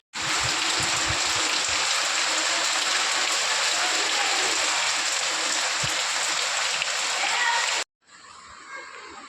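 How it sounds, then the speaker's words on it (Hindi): Heavy rain pours onto a rooftop in a steady, loud wash of splashing and pattering that runs unbroken for several seconds, then cuts off abruptly and leaves quieter outdoor sound. "आवाज़ आ रही होगी बारिश की, बहुत भयंकर बारिश हो रही है।"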